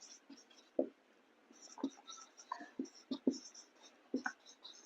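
Chalk or marker writing on a board during a Class 10 maths lesson on quadratic equations, with irregular short taps and scratchy strokes in bursts, fairly close and quiet, no talking.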